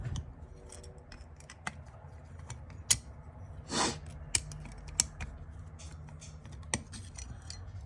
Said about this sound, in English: you get a screwdriver right on that little lip down in there, and you pull it and pop it out